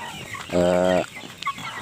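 A free-range village chicken gives a single drawn-out, tonal cluck, close and clear, with softer farmyard clucks and faint background noise around it.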